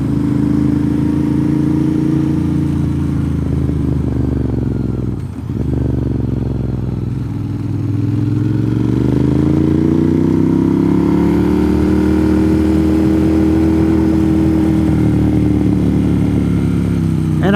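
A motorcycle riding a rough mountain road through a national forest, engine droning steadily with pitch dipping and rising through gear and throttle changes, close and loud over constant wind rumble and occasional rattling.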